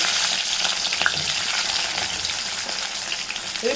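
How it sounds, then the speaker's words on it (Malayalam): Halved small onions fry in hot coconut oil in a cheenachatti, a steady, bright crackling sizzle with occasional sharper pops, close and continuous with no talking. "ഞാനൊരു ചീനച്ചട്ടി വെച്ച് വെളിച്ചെണ്ണ ഒഴിച്ചു കൊടുത്തിട്ടുണ്ട് വെളിച്ചെണ്ണ നന്നായി ചൂടായിട്ടുണ്ട് അതിനകത്തോട്ട് നമുക്ക് ചെറിയ ഉള്ളി ഞാൻ രണ്ടായി കട്ട് ചെയ്യും"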